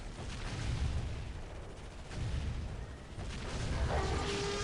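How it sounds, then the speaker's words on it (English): Space Marine plasma cannons firing in the Dawn of War Soulstorm game, a dense, continuous roar of booming blasts and rumbling impacts in the middle of a busy battle, with no pauses between volleys. "Plasma cannons are good."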